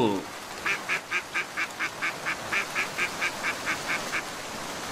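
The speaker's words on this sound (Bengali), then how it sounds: "কোথা থেকে আসছে এই হাঁসের ডাকটা?" A cartoon duck quacking by a river: a steady run of about sixteen evenly spaced, bright quacks, clear and moderately loud against a soft background hiss.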